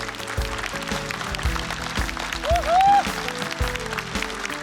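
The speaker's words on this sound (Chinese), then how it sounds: "喜欢王悦这段表演的朋友，再给他鼓鼓掌好吗？" Audience applauding a stand-up comedy performance in a televised competition, a steady crowd clapping held under loud background music, with a whistle-like tone rising briefly near the middle.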